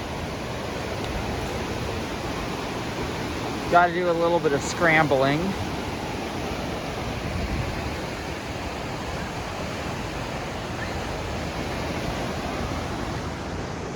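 Steady broadband surf of ocean waves washing onto the beach below a slag dump near Monterey, California, with wind over it throughout and a person speaking briefly partway through.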